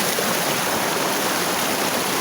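Steady broadband roar of a waterfall, loud and constant, with rushing water filling the whole clip and no voices.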